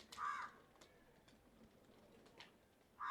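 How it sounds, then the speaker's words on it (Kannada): A crow caws near a pigeon loft, giving a few scattered harsh calls at the start and the end with faint ticking in between, heard alone at a moderate distance. "ಕಾಗೆ ಕರ ಅಂತ ಇದೆ."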